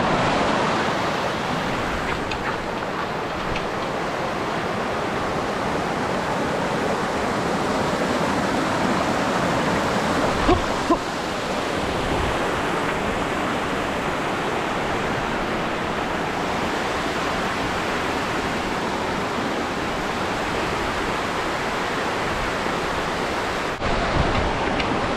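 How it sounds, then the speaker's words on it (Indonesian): Lembah Karaeng waterfall in Gowa roars nearby with a dense, continuous rush of falling water, loud and unbroken for the whole stretch, with no voices. "Kita lewat di atas air terjun."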